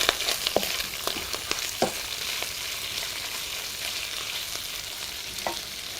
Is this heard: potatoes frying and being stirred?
yes